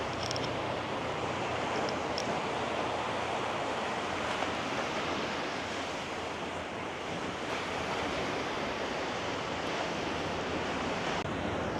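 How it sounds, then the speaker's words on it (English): Steady roar of wind-whipped, choppy sea waves at Patong Beach, Phuket, with constant gusty rumble buffeting the microphone, loud and unbroken throughout. "I know it's not the best of days to film with the water situation, with it being so windy and chopped up"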